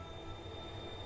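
Train riding on rails in Darkside Detective, a steady low rumbling drone with a faint high whine, continuous and even over a short stretch without speech.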